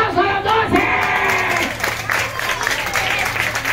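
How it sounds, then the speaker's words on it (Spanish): Applause at a children's day celebration party: lively clapping from an audience mixed with excited children's shouts and cheering voices, loud and close, with the noise rising and falling. "¡El aplauso a los 12!"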